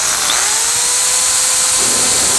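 A power drill whines steadily and loudly while pre-drilling screw holes in wood for a boat seat, the motor pitch holding nearly constant with a slight shift near the end.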